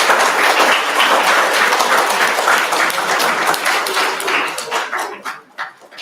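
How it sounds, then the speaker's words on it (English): An audience at the national finals of a senior geography bee applauds the winner, a dense burst of clapping that holds steady and then thins into scattered individual claps as it dies away. "Give him a big round of applause."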